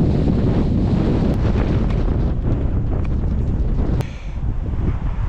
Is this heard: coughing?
no